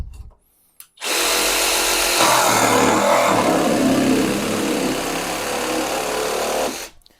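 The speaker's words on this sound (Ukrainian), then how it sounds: "Будемо на максимум, щоб поскоріше оцей брусочок пропиляти." A Grosser GJS 130 cordless jigsaw at maximum speed cuts through a 34 mm thick wooden bar, its loud, steady buzzing whine running for about six seconds before stopping abruptly.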